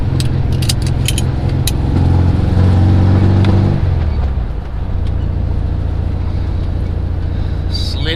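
An air-cooled Volkswagen engine fitted with an EMPI Hurst-style shifter runs close and loud, its low rumbling idle climbing briefly before settling into a steady chugging beat, with faint rattles and no talking.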